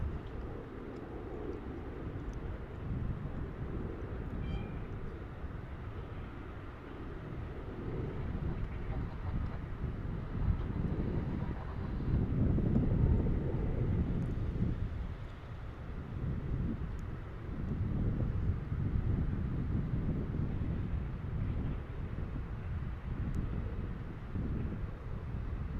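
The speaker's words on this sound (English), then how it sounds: "So we got this Air France Dreamliner flying in on 36 left." An Air France Boeing Dreamliner lands on runway 36 Left at DFW airport, a steady low jet roar with wind buffeting that swells and holds for the whole stretch, heard from a distance outdoors.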